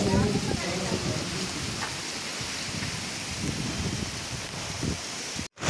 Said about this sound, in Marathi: बघा गावात पाऊस किती आहे, मरणाचा पाऊस लागता